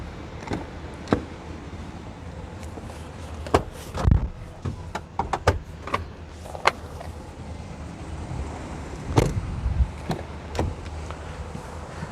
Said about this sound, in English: Let me close this trunk here.